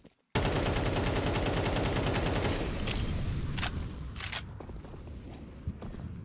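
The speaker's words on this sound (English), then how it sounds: "Marky's close with his AK. Ooh, misses the shot" Rapid rifle fire from an AK in a Counter-Strike style esports match, a dense loud burst of automatic shots for about two seconds, then a few isolated sharp cracks and clicks farther off.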